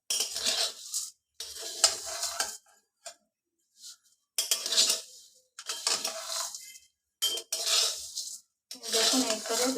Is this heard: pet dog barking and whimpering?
no